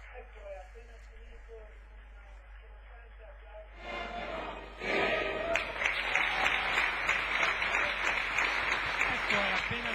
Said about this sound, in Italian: Finito in un scrosciante applauso da parte di tutti gli intervenuti